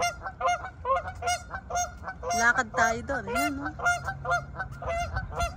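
A flock of ducks honks repeatedly and noisily nearby in a park, overlapping calls in a busy chorus, with a person speaking briefly in between.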